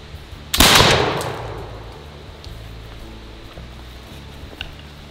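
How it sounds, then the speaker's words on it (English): A custom .60 caliber flintlock pistol fired once at 10 yards on a range, a single sharp close report with a rough decaying tail, then quiet outdoor ambience. "And we'll take a shot at 10 yards."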